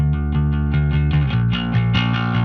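A steady, rhythmic bass guitar line with evenly plucked notes through Sansamp and SVT amp simulation on an HX Stomp sounds close and full, with a fairly clean tone and only slight grit.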